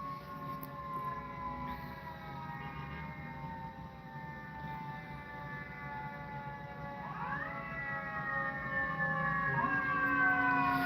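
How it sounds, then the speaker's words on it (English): Several emergency vehicle sirens wail outside, their rising and falling tones overlapping and sweeping upward, growing gradually louder and nearer over a steady low rumble of background noise. "there's a lot of freaking sirens going on today"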